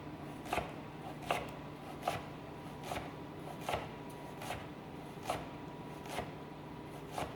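A kitchen knife dices vegetables very finely into brunoise, with sharp, evenly spaced cuts on a board, about one every second, quiet and close, with no talking.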